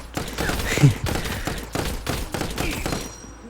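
Rapid bursts of gunfire from Laville in the mobile game RoV, dense repeated shots with game effects layered over them, loud and continuous, with no voices.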